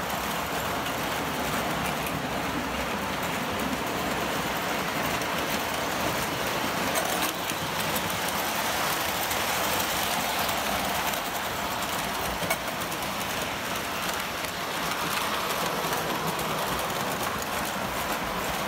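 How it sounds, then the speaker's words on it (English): Classic Models 1978 460 Camelback steam locomotive and other model trains running on a layout, a steady continuous mechanical rumble with rhythmic clicking, no voices. "I'll let you enjoy the trains for just a minute"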